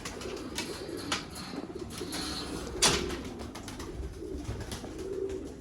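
A Mian Nazir bloodline dub pigeon coos softly in low, repeated murmurs against a background of other birds, with a brief flutter or knock partway through.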